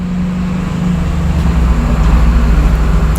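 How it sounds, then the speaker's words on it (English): A garbage truck rumbles past outside in the early evening, a loud, continuous low engine drone with road noise that swells slightly as it goes by. "the garbage truck just came around now at 6 p.m."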